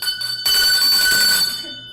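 A bell rung once with a bright sustained metallic ring that fades out over about a second and a half, loud and close, with no talking over it.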